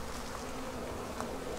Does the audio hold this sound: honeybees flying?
yes